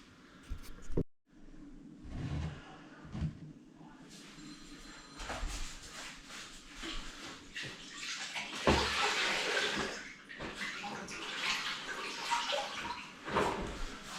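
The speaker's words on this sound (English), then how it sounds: "Just giving it a final wash with some clean water." Bathroom being rinsed down with clean water during a renovation, uneven splashing and running water over hard surfaces with scrapes, knocks and a brief pause near the start.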